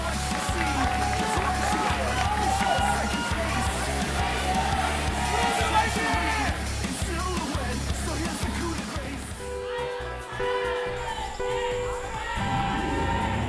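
A crowd at a KartRider esports match claps rhythmically in unison with steady beats, loud and busy with cheers, before the arena sound shifts to game noise and a calmer murmur.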